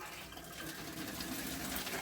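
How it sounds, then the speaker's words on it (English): Boiling water poured out of home lager brewing equipment during cleaning and sanitising, a steady splashing gush of liquid that runs continuously and fairly close throughout. "So just going to pour the boiling water away."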